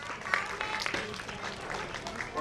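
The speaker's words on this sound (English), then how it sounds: "Give him a big hand." An audience at a school Grandparents' Day celebration applauds a grandpa, the clapping fairly faint and steady with some voices mixed in.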